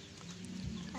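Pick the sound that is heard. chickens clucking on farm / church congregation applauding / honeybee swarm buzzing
chickens clucking on farm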